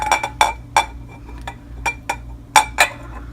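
A lid is fitted onto a glass jar of calendula-infused oil, a run of sharp glassy clinks and taps in uneven rhythm, close by and fairly loud, with no talk.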